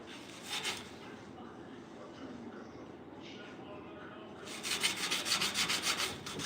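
Someone sands a 1968 C10 grill shell before epoxy, making a soft scratchy rubbing that turns louder and more rhythmic in quick strokes near the end.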